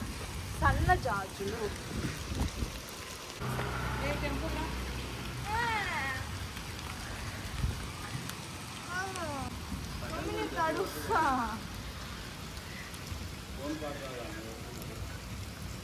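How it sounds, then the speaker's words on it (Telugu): Heavy rain patters steadily on a garden throughout, with voices talking over it now and then. "వర్షం గట్టిగా పడుతుంది"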